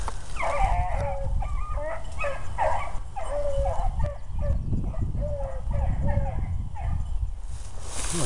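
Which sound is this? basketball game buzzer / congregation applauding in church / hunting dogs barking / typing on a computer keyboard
hunting dogs barking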